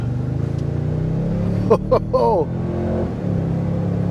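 A 2023 Toyota Sequoia Capstone SUV engine hums steadily and revs up as it accelerates, with a brief voice cutting in partway through.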